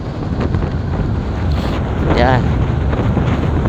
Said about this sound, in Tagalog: Lamig na hangin.